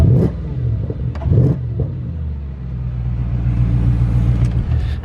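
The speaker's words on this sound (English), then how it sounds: "Let's see if I can get the exhaust on there." An Audi B6 S4 engine blips and revs loudly a few times through a Miltech aftermarket exhaust, with a deep throaty exhaust note, then settles into a sustained rumbling idle close by.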